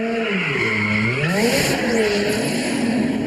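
A Porsche spinning donuts in a garage yard, its engine revving and tyres skidding in a continuous loud roar with wavering, rising and falling pitch, no talk.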